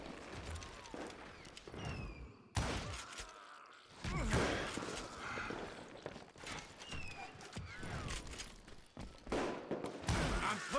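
Gunfire cracks in bursts during a saloon shootout in the Wild West game Call of Juarez: Gunslinger, the sharp shots mixed with shouting voices and clattering scuffle throughout.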